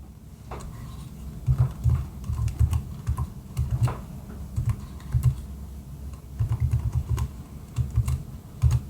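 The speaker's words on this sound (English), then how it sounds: "By simply typing in that expression that we set up." A computer keyboard clatters as a math expression is typed into an online calculator, quick bursts of close, crisp keystrokes separated by short pauses.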